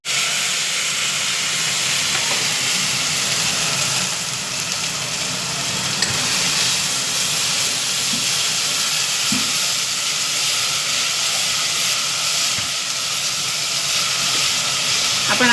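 Spice masala of turmeric and salt frying in a pan for stuffed brinjal, a steady broadband sizzle and hiss running unbroken and fairly loud, with faint clicks of utensils now and then.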